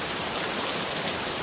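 Steady rain falling in a dramatized audio story, a dense even hiss of drops at moderate loudness with no voices.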